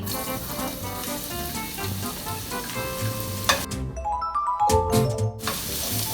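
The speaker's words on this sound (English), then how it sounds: "saute it a little bit and then add in my broccoli." Garlic and onions sizzle steadily in a pan with sunflower and grapeseed oil, a close, continuous frying hiss, followed near the end by a few clinks and stirring sounds.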